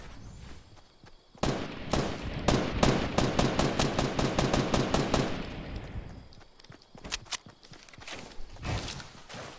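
Rapid bursts of gunfire in a Fortnite duo match, a fast run of sharp shots around two to five seconds followed by scattered single cracks, fairly quiet overall in the game mix.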